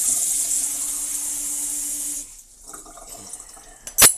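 Water runs in a steady hissing stream into a cooking pan for a couple of seconds, then stops, followed by faint clinks and a sharp knock.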